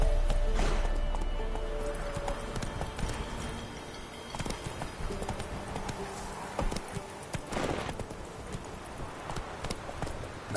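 Roach, a grey horse in a video game, gallops with a fast, uneven patter of hoofbeats at moderate volume, alongside ambient game sounds and occasional louder thumps.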